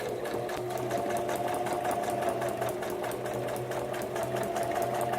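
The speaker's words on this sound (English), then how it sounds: "Back stitch a couple of stitches." A sewing machine runs continuously while back stitching a paper shaker card pocket, a steady close mechanical whir with fast rhythmic needle ticking and no talk.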